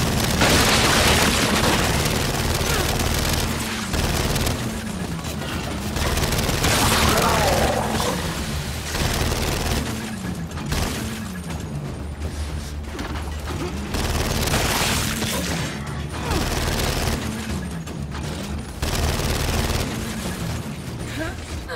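Turret gunfire and heavy explosions from the Gears 5 video game, a dense, loud barrage of booms and mechanical rattling with a spoken voice over it.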